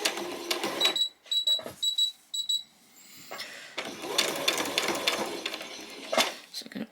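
A sewing machine stitches across a fabric headband in short bursts of rapid mechanical whirring separated by pauses, with faint clicks and handling noises and a voice briefly speaking between runs.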